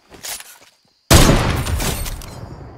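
Loud burst of gunfire in a Fortnite arena match, a headshot that gives no headshot sound: quiet shuffling, a brief hush, then a sudden sharp blast with a long noisy tail.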